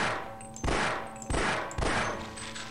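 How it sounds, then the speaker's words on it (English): Gunfire in the video game Half-Life: three loud, separate gunshot blasts roughly half a second apart, each with a sharp onset and a decaying tail, heard alone without talk. "Well, maybe we should just shoot it."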